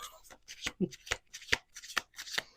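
Playing cards are riffled and bridged several times in quick, crisp bursts, close up, with a voice talking between the shuffles.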